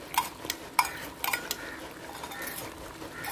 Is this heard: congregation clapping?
no